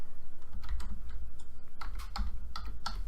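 Someone types steadily on a computer keyboard, entering Zoho CRM: quick, close clusters of soft key clicks with brief pauses between bursts.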